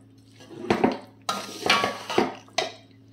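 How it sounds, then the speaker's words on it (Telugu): A spoon scrapes and clanks through chicken pickle as masala is mixed in a metal pot, with four or five distinct stirring strokes, each a sharp clink followed by a wet, gritty scrape, close and fairly loud. "మొత్తం మంచిగా కలిసేలా కలుపుకుందాం"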